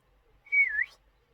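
A single sheepdog whistle command meaning left, a clear shrill tone that holds steady, dips slightly and then rises sharply at the end, sounded once close up against a quiet background.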